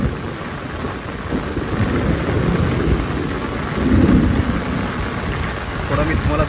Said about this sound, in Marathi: विजांचा जोरदार कडाका